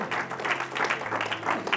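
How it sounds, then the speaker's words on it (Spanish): Spanish-speaking church congregation clapping for the Lord, rhythmic pulsing applause over a low sustained organ-like drone, moderately quiet. "Dele ese aplauso al Señor."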